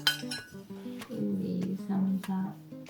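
Plates clink lightly several times in a kitchen while melon and jamón are plated, with soft talking heard between the taps.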